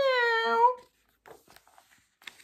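A single drawn-out cat meow, close and clear, fills the first second as a sound effect in a children's story, followed by faint scattered rustles and small noises.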